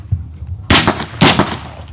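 Two sharp gunshots at a shooting competition, sounding loud and close about half a second apart, with quieter range noise before them.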